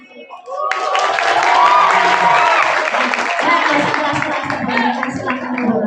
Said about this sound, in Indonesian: Tapi di dalam musola nggak boleh tepuk tangan ya.